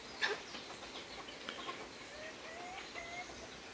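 A young hen (pullet) on a small farm vocalizing outdoors, faint repeated calls and clucks over a soft background hiss, with a slightly louder call near the start.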